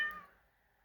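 A single short cat meow, close and fairly soft, trailing off quickly into quiet.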